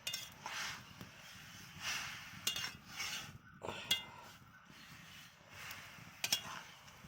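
A spoon stirs a sweet dish in a pot of lightly simmering water, making faint, repeated scrapes and small metallic clinks in a quiet kitchen.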